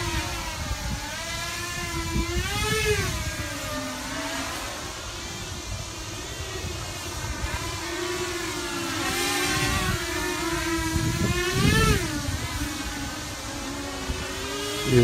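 Walkera F210 quadcopter drone flying outdoors in wind in stabilized mode, its motors giving a steady close whine that swoops up and down in pitch as the throttle changes, with no talking.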